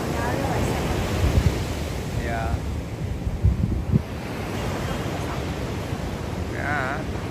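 Ocean surf rolling and breaking steadily at Kuta Beach, Bali, on a cloudy day, a continuous broad wash of waves with wind buffeting the microphone and faint voices in the distance.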